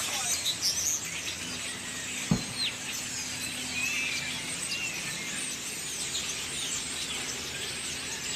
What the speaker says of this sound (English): Listening to the birds chirping.